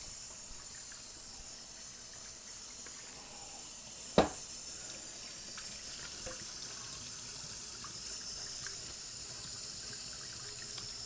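Water pours steadily from a faucet into a sink as a constant rushing hiss, with a single sharp click partway through and no voices.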